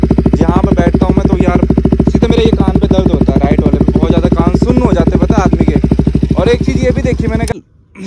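A KTM Duke 200 fitted with a modified aftermarket exhaust runs loud and close, its engine revving in a rough, pulsing drone before cutting off abruptly near the end.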